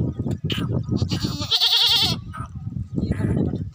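Tapri goats in a livestock pen bleat nearby, with one clear, quavering bleat in the middle among other close animal calls and shuffling.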